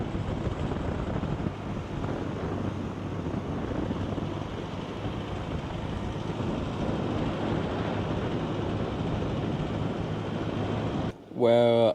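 Strong wind buffets the microphone in a steady, roaring rush on a beach at 80 Mile, with waves, then a brief voice comes in at the end.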